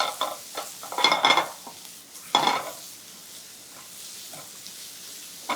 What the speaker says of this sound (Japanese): 香りを出したらすかさず玉ねぎを入れます。